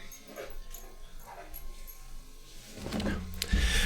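A dog whimpers and yips in short, strained bursts that grow louder toward the end, close by over a steady background hum.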